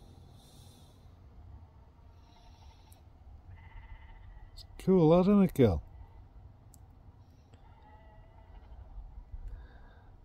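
Out in the Peak District countryside, a sheep gives one loud, wavering bleat at close range, lasting under a second amid quiet outdoor ambience, with a person speaking softly at the start.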